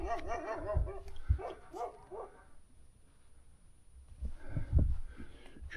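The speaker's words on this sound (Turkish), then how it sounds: "Köpek var." Shepherd dogs bark in the rural village of Kayı near Ankara, a run of sharp, yelping barks in quick bursts, then a pause before more barking returns at moderate distance with no one speaking.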